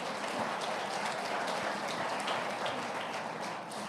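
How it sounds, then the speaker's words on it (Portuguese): Dense, even applause from a congregation during a church celebration service, a steady wash of many hands clapping at moderate volume without a break. "Você pode aplaudir a Deus por isso?"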